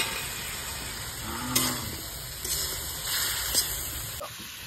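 Cut eggplant pieces fry in a pan for a khoira fish curry, a steady soft sizzle with a few brief louder spatters and stirring scrapes, close by and fairly quiet.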